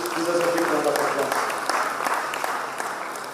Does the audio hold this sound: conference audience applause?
yes